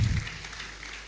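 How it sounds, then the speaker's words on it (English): Brief burst of audience applause at a Caleb University employability fair, a short patter of clapping that fades quickly within about a second. "Another round of applause for our own university CEO."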